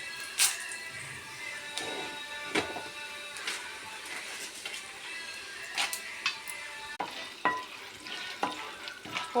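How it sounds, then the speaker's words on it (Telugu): Tempering spices frying in hot oil in a home kitchen, a soft continuous sizzle broken by faint scraping stirs and small crackles, fairly quiet and close. "పోపులు వేగిపోతున్నాయండి."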